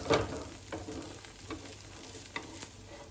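A ragi dosa sizzles and fries on a hot pan over a gas flame, a soft steady crackle with a louder burst at the start and faint ticks and pops scattered through.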